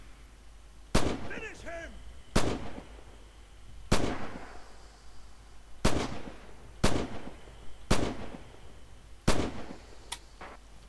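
Gunfire in the video game Red Orchestra 2: about eight loud, sharp single shots spaced a second or two apart, each with a short echoing tail, while someone speaks briefly between them.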